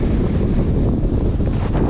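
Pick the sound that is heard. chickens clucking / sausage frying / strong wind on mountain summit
strong wind on mountain summit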